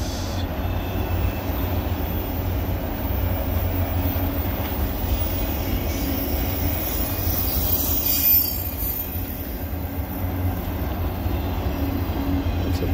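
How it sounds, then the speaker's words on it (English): A CSX freight train hauling fully loaded autorack cars rolls past nearby, with a steady heavy rumble of wheels on rails and faint high squeals running through the whole pass. "Fully loaded Autorack. Heading to the Port of Baltimore."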